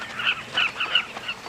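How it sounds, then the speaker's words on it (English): Carmine bee-eaters call at a nesting colony in steep sandy banks, a dense overlapping chatter of many birds with short repeated bursts and no voices. "Thousands of carmine bee-eaters migrate here to nest in the steep,"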